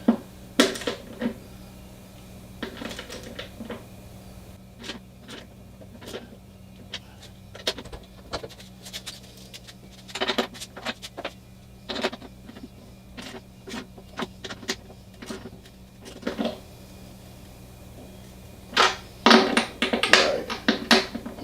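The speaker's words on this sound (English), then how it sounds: "So I'm going to be using a torque wrench." A torque wrench tightens the bolts of a Sierra Teleflex Safe-T QC steering system into wood on a Boston Whaler. Scattered sharp clicks and ratcheting bursts come up close amid quiet shop background, and nobody speaks.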